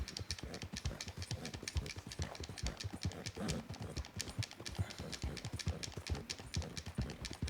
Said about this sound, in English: I'm riding my horse really into the ground here